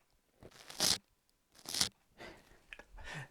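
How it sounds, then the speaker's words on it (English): Sponges rubbed against a microphone for ASMR give soft, close crunching and crinkling scrapes in four short bursts separated by near silence, quiet overall. "rubbing sponges on mics like this."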